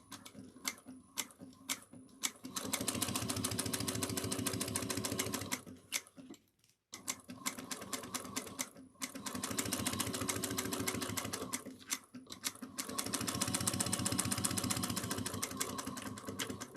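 A sewing machine runs in long, steady bursts of fast needle chatter while top-stitching 1/8 inch along the zipper tape of a cross-body bag, close and alone, with short pauses between runs.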